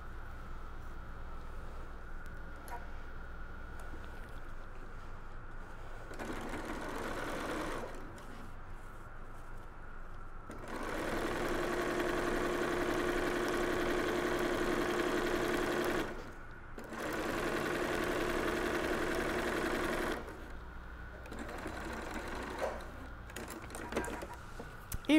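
A sewing machine stitches a seam on reusable snack bags in two longer runs of steady, fast mechanical whirring, close up, separated by quiet pauses.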